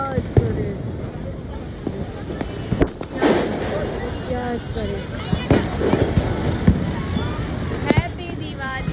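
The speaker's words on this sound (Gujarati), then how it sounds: "અહીંયા તો એટલું રોનક લાગે ને પટ ફટાકડા ફૂટ્યા જ કરે" Firecrackers bursting during Diwali celebrations in Surat, sharp cracks and bangs scattered irregularly, some near and some farther off, amid a busy crowd with people talking throughout.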